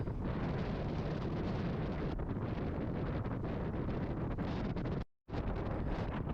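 Strong wind buffets an outdoor microphone during an arrowhead hunt, a loud, steady roar that fills the whole clip without any talk and breaks off in a brief dropout near the end.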